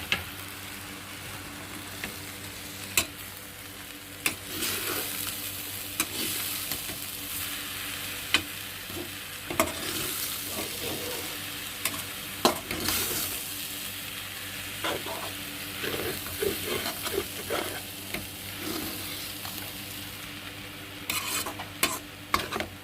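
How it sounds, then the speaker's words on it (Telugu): Puffed rice (borugulu) mixture being stirred in a hot pan for uggani bajji, with a soft continuous sizzle and repeated scraping taps of the spatula against the pan. "దీంట్లోకి బొరుగులు వేసేసుకొని తిప్పేసుకుందాం"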